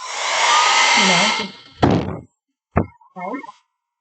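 A hair dryer runs on a softer setting with an airy whoosh for about a second and a half, then switches off, followed by clicks and a brief voice.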